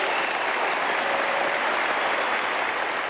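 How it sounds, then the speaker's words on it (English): An audience gives sustained, dense applause during a governor's speech on the death penalty, a loud even wash of clapping with no break across the whole stretch. "Amid all the applause during the governor's talk about the death penalty"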